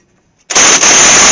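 Pneumatic impact wrench with an extension driving a ball joint bolt on a Ford truck, a loud continuous hammering rattle starting abruptly after brief near silence, with a short hitch partway through.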